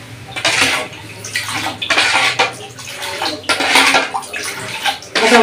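Sugar-and-water liquid for pickles poured in several separate splashing bursts, close and fairly loud, with brief pauses between pours.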